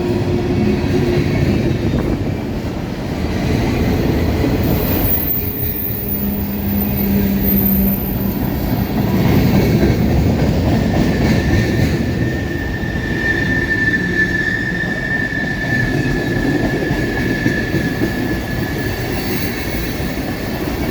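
A CSX manifest freight train led by a Dash 8 and an EMD GP40-2 climbs a grade with a continuous heavy locomotive drone and rolling wheel noise, with faint wheel squeal and a brief tonal whine, steady and close throughout.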